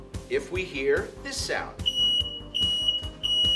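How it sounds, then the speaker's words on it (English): A household smoke detector alarm gives sharp, high repeated beeps in a steady pulsing pattern after a man asks a question, with his voice briefly overlapping the early beeps. "My friends, that's the sound of a smoke detector."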